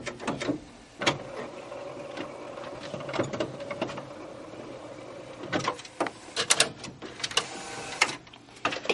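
An HP Designjet T120 printer fitted with a continuous ink supply system slides its carriage back and forth, giving repeated whirring mechanical sweeps broken by sharp clunks and clicks at the ends of each pass, close and moderately loud.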